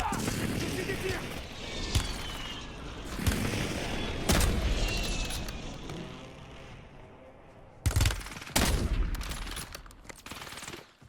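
Gunfire and explosive booms in the battle royale shooter Warzone, loud bursts of automatic fire and heavy impacts at intervals over a rumbling background, with a few separated sharp blasts near the end.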